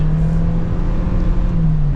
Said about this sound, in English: Definitely sounds like a CVT. You can hear it just kind of whine as you floor it.